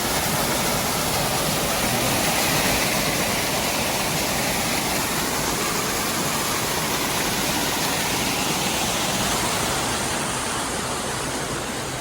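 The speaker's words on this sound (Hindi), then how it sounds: "ठीक है, एक और वाटरफॉल आपको दिखाएं।" A mountain waterfall on the Kedarnath trek roars steadily and loudly for the whole stretch, a dense unbroken rush of falling water with no voices.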